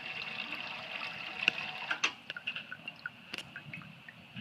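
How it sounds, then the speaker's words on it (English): A public dog water fountain in Roebling, New Jersey runs quietly, with soft trickling and irregular drips and splashes over a faint, steady high hiss, heard from close by and without talk. "Water fountain for your doggie."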